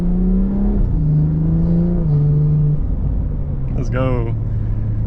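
A stage 2+ tuned BMW 340i F30 with its B58 engine accelerates from inside the cabin, a loud rising drone climbing through the gears with a quick shift near the end, while someone talks over it.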